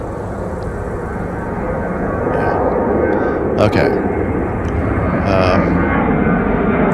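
An airplane engine roars steadily during takeoff, a loud broad rushing drone that builds slightly, with someone speaking briefly over it.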